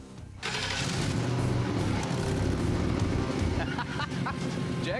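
A Ford 4.6-liter DOHC V8 with dual side exhaust, swapped into a Mazda B2500 pickup, cranks and catches, then settles into a loud, rumbling idle with a few revs near the end.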